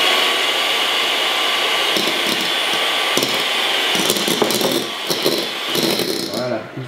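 Stand mixer whipping egg whites for a tres leches cake, giving a loud, steady whirring drone with rattling bursts from the whisk that ease off near the end.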